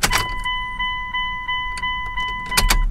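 The ignition of a cammed Dodge Dakota R/T truck is cycled, producing a steady electronic chime tone pulsing at regular intervals, with sharp clicks and key jangles at the start and end.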